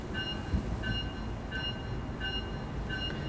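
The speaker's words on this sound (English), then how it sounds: "Let's put the bell on" A locomotive bell in Train Sim World, on the Northeast Corridor route from Boston to Providence, rings in a steady, evenly spaced clang about every two-thirds of a second over a low rumbling train background.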